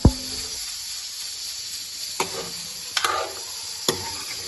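Meat fries with whole spices, bay leaf and cinnamon pieces, for white korma: a steady hiss and sizzle in the pan, broken by a few sharp clicks from stirring.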